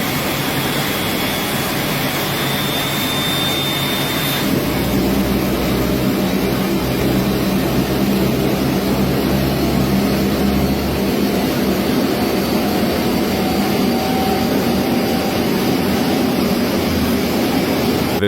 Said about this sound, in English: This plane engine emitting a lot of smoke.